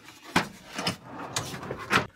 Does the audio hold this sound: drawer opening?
yes